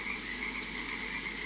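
Frogs croak in a dense, continuous chorus at night near a campsite, steady and fairly faint, with no talk over it.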